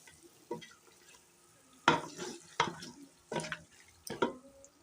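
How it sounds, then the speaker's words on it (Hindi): Beef being stir-fried in masala over full flame for nehari, quiet background with five or six distinct scraping, stirring bursts at uneven intervals and a soft sizzle underneath. "बीफ को हम अपने इसी मसाले में अच्छी तरह से भून लेंगे।"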